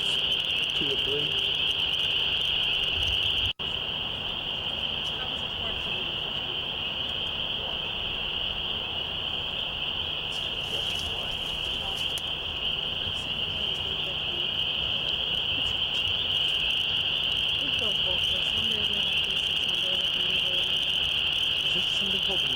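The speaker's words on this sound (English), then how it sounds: "there are an awful lot of the forest frogs now" A dense, continuous chorus of forest frogs trills steadily at one pitch along Beekman Road, loud and unbroken, with people talking faintly underneath.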